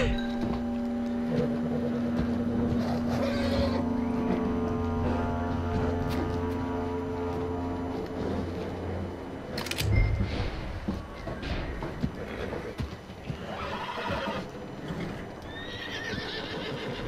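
A horse whinnies loudly in the video game Red Dead Redemption 2, then hooves clip-clop steadily nearby, with a second neigh and assorted thumps later on.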